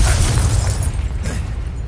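A fiery Confringo spell blast in the video game Hogwarts Legacy, a loud, deep booming burst that rumbles heavily at the start and slowly rolls off over about two seconds.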